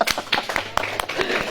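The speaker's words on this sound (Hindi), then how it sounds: "ताली बजाओ।" A congregation at a church sermon claps hands in a quick, uneven burst of sharp slaps, fairly close and moderately loud, lasting only a moment.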